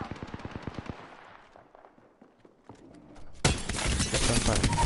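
Gunfire in Apex Legends, a rapid burst of sharp automatic shots that tails off into sparse pops, then a sudden loud dense blast of noise close by.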